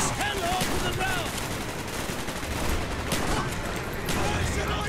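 Sustained gunfire in Call of Duty: Black Ops on the Vorkuta mission, a dense continuous barrage of shots with several louder bursts, loud and steady throughout.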